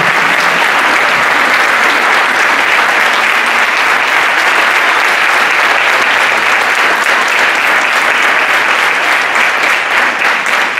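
A festival audience claps loudly and steadily for a group at a copla music event in Calamonte, a dense, sustained wash of applause lasting throughout.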